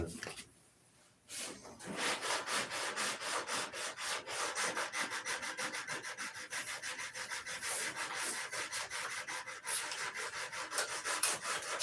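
Wood is sanded by hand with sandpaper in long, rhythmic rasping strokes that continue almost without a break after a short quiet start, close and fairly loud.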